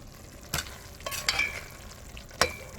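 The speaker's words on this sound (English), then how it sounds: "Adding the saltfish now" Boneless saltfish added to a pot of Jamaican gungo pea stew, a spoon scraping and stirring with a few distinct clanks over a soft steady sizzle, close up and without talk.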